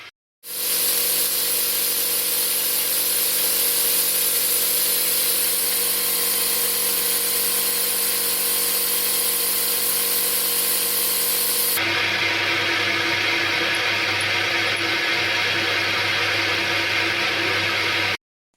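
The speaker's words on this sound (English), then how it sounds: "An 8 mm ripper end mill is used to cut the slot." An 8 mm ripper end mill cuts a slot through chain-drilled steel, giving a loud, steady, broadband machining roar that runs continuously and then shifts to a harsher, more textured tone partway through, with no talking.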